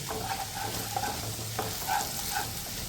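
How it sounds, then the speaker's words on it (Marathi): Cumin and garlic sizzle in hot oil with a constant crackling hiss, punctuated by occasional scraping of a spoon stirring the pan, close and fairly loud. "तर आता व्यवस्थित आपण परतून घेऊया"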